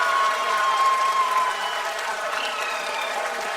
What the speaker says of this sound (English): People are applauding.